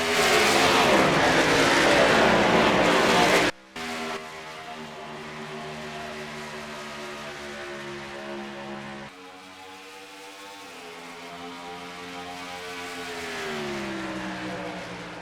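A pack of race cars in a racing video game, set in Minnesota for the M&M's 400, roars loudly as the green flag drops, engines revving and droning together before a short dip and a rising surge.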